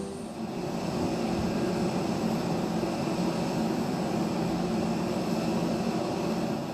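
A Brazilian Air Force Hercules aircraft landing in heavy rain produces a steady, heavy droning roar with a broad hiss, constant and unbroken, with no voices.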